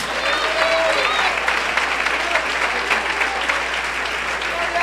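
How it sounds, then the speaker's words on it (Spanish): Loud, sustained applause from a large church congregation, dense clapping, with a few voices calling out above it. "Aplauso fuerte a Dios."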